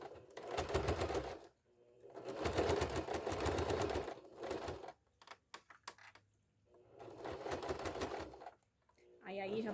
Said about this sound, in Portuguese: Ajeitar aqui certinho pra gente passar a costurinha.